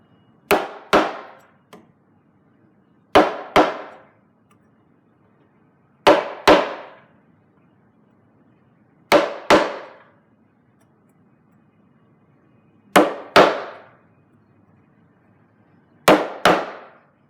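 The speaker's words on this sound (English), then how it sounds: "make a little mark with the chisel" Chisel struck against lumber to scribe a mark, giving sharp wooden-metal knocks in six paired bursts, each pair a quick double tap, spaced about three seconds apart in a quiet room.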